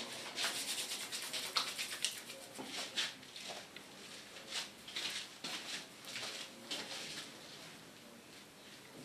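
Soft, non-greasy synthetic hair wax rubbed between hands and worked into curly hair, giving close, quiet, irregular rubbing and swishing strokes with brief pauses.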